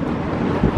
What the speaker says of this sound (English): It's a windy day today.